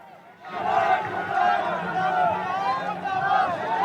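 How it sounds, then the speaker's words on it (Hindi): A protest crowd at a rally against violence in Bangladesh chants slogans in loud, dense unison, rising sharply after a brief quieter start and holding near and steady throughout. "लगातार यहाँ पर नारेबाजी प्रदर्शन के साथ ये मांग की जा रही है"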